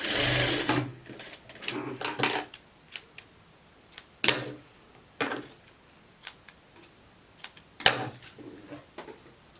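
Domestic sewing machine running two finishing seams on a garment, heard as several short whirring bursts separated by pauses and light handling clicks, moderately close with no talking.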